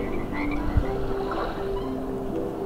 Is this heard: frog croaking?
yes